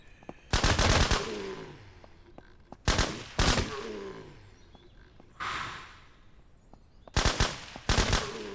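Short bursts of automatic gunfire in the zombie survival game SurrounDead crack out in separate volleys, two quick rattles, a pause, another pair, then a duller burst and a final double burst, close and loud with quiet gaps between.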